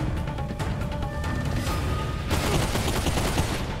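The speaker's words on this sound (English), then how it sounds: "We have the ability now to leash the enemies or shoot them." Rapid gunfire in Bulletstorm VR on Quest 3 crackles in dense, repeated bursts, loud and close, becoming a more continuous barrage in the second half.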